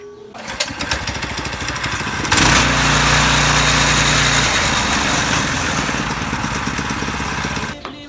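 A go-kart's small engine starts with a few sputters, then runs at a loud, steady, buzzy idle during a brake test, heard close up before cutting off at the end.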